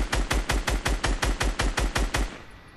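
Rapid automatic gunfire in Fortnite, about a dozen evenly spaced shots in a steady burst, loud and close, ending abruptly with a faint tail.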